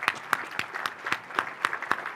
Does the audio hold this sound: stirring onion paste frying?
no